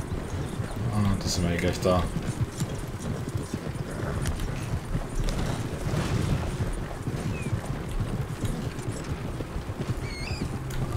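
A horse's hooves clip-clop along in Red Dead Redemption 2, a continuous patter of hoofbeats under someone talking.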